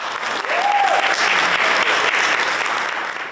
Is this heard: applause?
yes